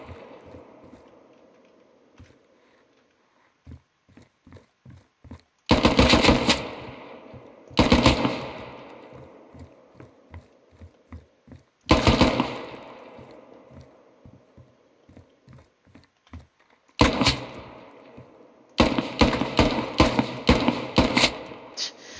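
Machine gun fire in the video game Squad on a practice range, several loud sustained bursts separated by single shots and short pauses.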